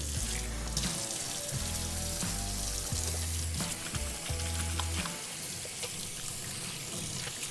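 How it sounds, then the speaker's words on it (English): Tap water runs steadily into a kitchen sink as hands are washed between preparing beef flank, a continuous rushing hiss with a heavy pulsing bass beat underneath. "Then we're gonna give another wash of the hands."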